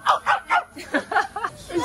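A person's voice imitates a barking dog at a campsite with a quick run of about eight short, close yapping barks in uneven rhythm.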